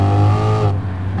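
A 650 hp Mustang GT in Gran Turismo Sport revs hard with a loud, close engine tone, then drops off sharply as if the clutch is pressed, leaving a lower idle-like hum.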